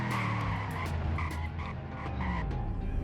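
A car in the Greenville driving game brakes hard with a harsh tire skid and squeal, loud and close, over steady engine noise with no talking.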